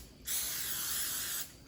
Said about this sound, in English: I'm gonna spray my pie pan.